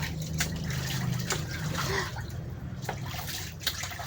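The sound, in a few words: water splashing while bathing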